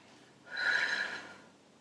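A single breath cycle during a Pilates core exercise: a breathy exhale swells and fades over about a second, close and alone in a quiet room with no talk.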